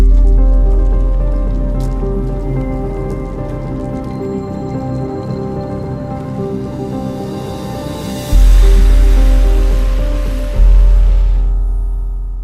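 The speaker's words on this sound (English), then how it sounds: "It's raining even harder than it was yesterday." Heavy rain in Afghanistan drips and patters steadily and close by, with deep rumbling thuds and a dense, continuous wash of water, and no voices.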